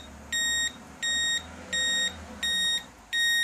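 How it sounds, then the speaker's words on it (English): Five evenly spaced electronic beeps from a voltage checker alarm on a lithium battery lab power supply, each a high steady tone lasting about a third of a second, repeating in a regular pulsing pattern. "As you can see, the alarm is buzzing"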